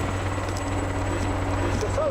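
Rescue helicopter hovering on Mont Blanc, its rotor and engine drone steady and fairly close under a voice talking.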